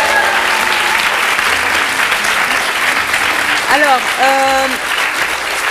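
Studio audience applause during a French TV dating show, a steady dense clapping wash running throughout, with a voice speaking briefly over it near the end.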